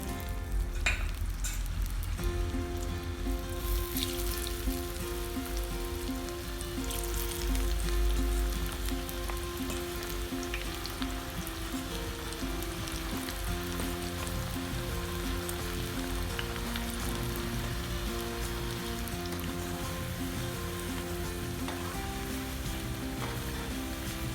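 Cauliflower pakoda frying in hot oil in a pan, a steady dense sizzle and crackle that continues loud and close throughout, with faint background music and no talk.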